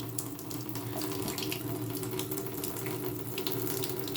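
A faucet with its original aerator runs a steady water jet at 2 litres per minute, a continuous close, even splashing rush into a sink.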